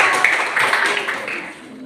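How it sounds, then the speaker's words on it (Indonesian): Clapping from a classroom audience for a student discussion group, a short burst of scattered hand claps that is loud at first and thins out toward the end, with some voices underneath. "tepuk tangan dulu buat kelompok 1"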